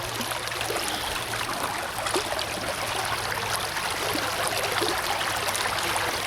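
Water rushes steadily through a gold prospecting sluice box fed with screened material. The flow is a constant, close, broadband wash from start to finish.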